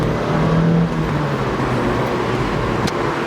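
A Mazda MX5 Miata on VMAX coilovers driving top down in the rain, a steady close engine and road rumble with a brief tonal hum early on and a sharp tick near the end, no talking.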